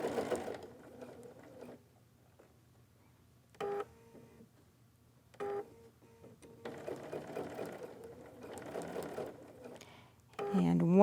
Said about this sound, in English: place the tuck underneath, and lower the foot, and then continue to sew.